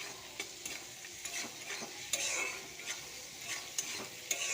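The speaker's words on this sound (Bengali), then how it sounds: "তারপর টমেটো দেব, দিয়ে নাড়িয়ে নিয়ে তারপরে বাটা মশলাটা দিয়ে দেবো ওর মধ্যে" Tomato and ground spice paste fry in a pan with a soft, constant sizzle, and a spoon scrapes and clinks through it in irregular strokes, fairly quiet and close.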